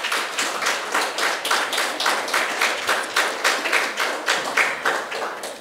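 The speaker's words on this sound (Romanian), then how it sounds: "toate cele 16 proiecte merită încă un rând de aplauze puternic din partea tuturor" A crowd at a small-grants certificate ceremony claps loud and close, the many hands soon falling into a strong rhythmic unison beat of regular pulses that continues to the end.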